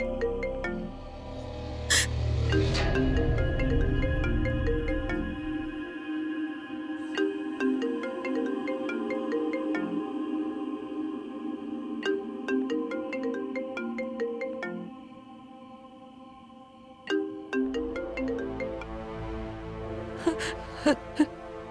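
A mobile phone rings on and on without being answered, a repeating electronic ringtone melody over background music in a Hindi TV drama, with a brief gasp near the start.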